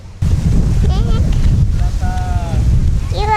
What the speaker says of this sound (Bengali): ভীষণ বাতাস আছে, তাই না?